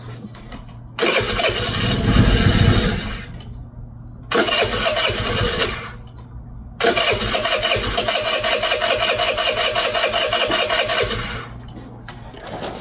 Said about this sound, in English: now it starts, but now it won't stay running.